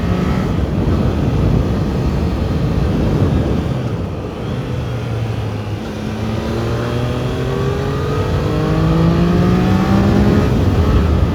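A Triumph Daytona 660 sport motorcycle engine roars steadily in fourth gear and climbs in pitch as it accelerates, loud and close with rushing wind noise throughout.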